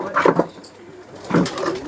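Pigeons of Kamagar, Teedy and Sialkoti breeds coo close by, two short throaty bursts separated by a brief quiet gap.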